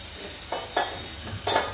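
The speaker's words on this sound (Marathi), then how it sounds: "असं पाणी टाकून घेऊ, मिक्स करून घेते" A spoon stirs water into dal inside a pressure cooker, giving a few short scraping swishes spaced about every quarter to half second over a soft background hiss, with no talking.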